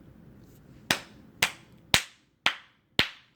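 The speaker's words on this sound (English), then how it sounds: "I'm clapping that you made the decision, man." Five sharp hand claps at an even, unhurried pace, close and distinct against a quiet background with no talking.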